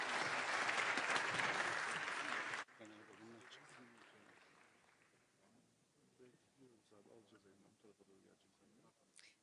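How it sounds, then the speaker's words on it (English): An audience at a defence forum panel applauds loudly for about two and a half seconds; the clapping stops abruptly, and a speaker then talks quietly over a hushed room. "Please join me in giving a round of applause."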